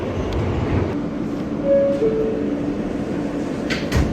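A Budd R-32 subway train on the New York City MTA runs along with a steady low rumble and faint squeals, heard from on board, without any talk.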